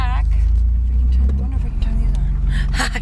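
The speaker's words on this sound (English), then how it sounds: "we're driving back to the desert" Steady low road rumble of a car driving back toward the desert after Thanksgiving, heard from inside the vehicle as a continuous drone with a voice speaking over it.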